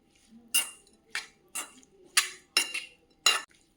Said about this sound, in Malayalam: ഇനി ഇതെല്ലാം കൂടെ നമുക്ക് നന്നായിട്ട് ഇളക്കണം.